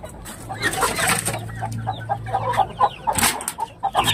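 Basilan hen with ten five-day-old chicks clucking near a feeding spot, with soft clucks and peeping chick calls scattered through the short clip alongside scratching movement, close by and moderately loud.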